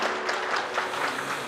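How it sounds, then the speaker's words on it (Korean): Wedding guests in a convention hall ballroom applaud the friend's congratulatory speech, a brief, steady burst of many hands clapping. "정성껏 축사해주신 친구분께 감사의 박수 부탁드리겠습니다"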